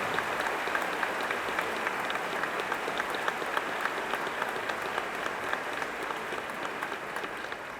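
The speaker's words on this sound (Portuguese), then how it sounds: "Peço mais uma vez uma salva de palmas a todos os membros da banca examinadora." Steady applause from a large audience at a formal swearing-in ceremony for the examination board, an even, sustained crackle of many hands clapping throughout.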